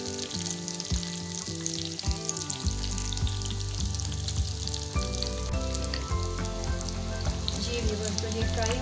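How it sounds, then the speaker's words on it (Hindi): Mutton masala chops frying in a pan, a steady close sizzle running the whole time, with tonal hum from a music bed layered underneath and no voices. "अब हम इनकी साइड चेंज करेंगे, बस 1-2 मिनट के लिए और इनको फ्राई करेंगे"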